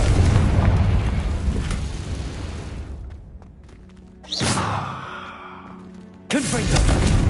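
Fiery Confringo spell blasts from Hogwarts Legacy on PS5, with booming bursts at the start, a sharp one midway and another near the end, amid rumbling game effects and a brief voice.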